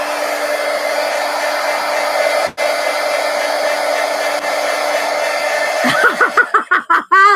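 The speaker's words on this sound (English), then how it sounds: "let's hit it with the heat gun" Heat gun blowing over a fresh ink drawing, a loud steady whooshing hum nearby with a short dropout partway through, then fluttering, pulsing airflow near the end as it is moved around.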